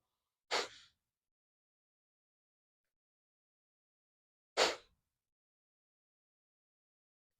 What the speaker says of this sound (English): You can even put your hands on your belly and feel it jiggle on this very forceful exhale.